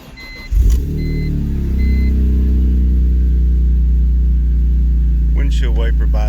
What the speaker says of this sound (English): Do a cold start for you.